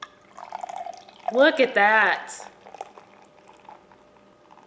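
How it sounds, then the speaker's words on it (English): Dark Jack O Lantern pumpkin stout pouring into a large Cheers mug, a short gurgling, splashing burst in the middle, surrounded by quieter clinks and a person speaking. "Oh, I poured too much."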